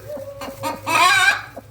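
A hen clucks near chicks around a brooder, a few short clucks building into a louder burst of calls before trailing off into quieter scratching sounds.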